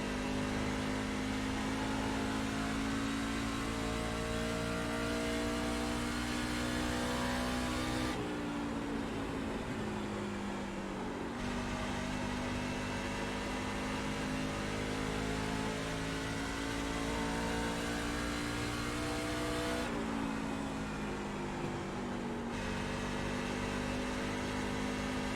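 A race car engine screams at high revs through a hot lap on an oval under the lights in iRacing, the steady loud drone dipping briefly twice as the pitch drops and climbs again.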